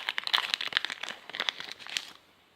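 Crisp plastic crinkling and tearing as a Final Fantasy Opus 2 trading card booster pack wrapper is opened by hand, a quick burst of close crackles that stops abruptly.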